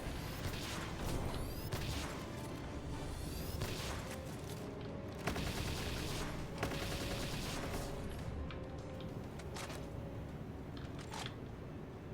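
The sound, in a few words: gunfire from a gun in a video game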